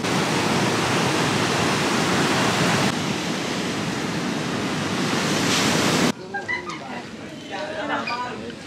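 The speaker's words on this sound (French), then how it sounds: "il y a des belles vagues." Loud, steady roar of ocean surf washing in close by at Matara, Sri Lanka, then the crash fades to softer wave sounds with faint voices.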